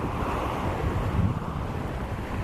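Atlantic Ocean surf at Coney Island rolls in as a continuous broad wash, with wind buffeting the microphone throughout and no voices.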